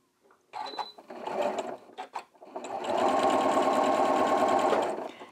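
A sewing machine stitches small scraps of fabric together for crumb quilting, with a short start-stop burst of stitching and then a steady, close, continuous run of rapid needle clatter.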